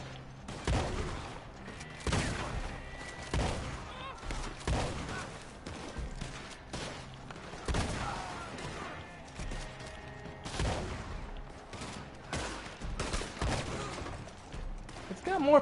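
Shotgun blasts and other gunfire in Red Dead Redemption 2 go off repeatedly in uneven bursts of sharp, booming shots, layered over continuous game sound for the whole stretch.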